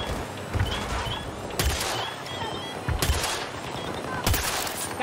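Flak cannon in Battlefield 2042 firing in bursts, sharp booming volleys roughly every second or so over noisy battlefield ambience.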